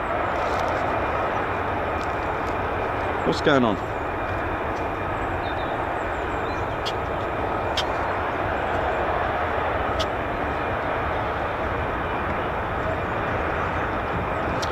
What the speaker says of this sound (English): F-35A that we can hear here now